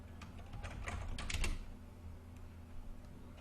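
Someone types on a computer keyboard, a quick cluster of light, quiet keystrokes in the first second and a half, then fainter scattered taps over a steady low hum, with no speech.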